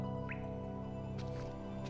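Soft water drips plink over a steady ambient music bed in the Forgotten Crossroads intro of Hollow Knight, with a brief watery chirp early and faint splashy ticks later, all fairly quiet.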